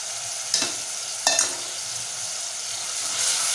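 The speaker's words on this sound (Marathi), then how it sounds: "आता छान आपल्याला परतून घ्यायचं आहे एक दोन तीन मिनटं आपण परतून घेऊया" Tomatoes with a pinch of salt sautéing in a pan give a close, steady hiss of sizzling, broken by two quick scraping stirs early on.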